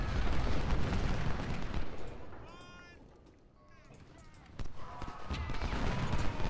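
Cannon artillery fire in the Civil War strategy game Ultimate General: Civil War at the Battle of Gettysburg, a dense rumbling barrage of booms and crackling volleys that eases off mid-way, then swells again, with small voice-like cries mixed in.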